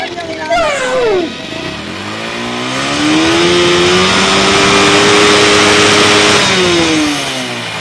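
An LS135 motorcycle engine revs hard during a power test, rising quickly after a brief blip and then holding a loud, sustained high-revving drone for several seconds before easing off, close and dominant.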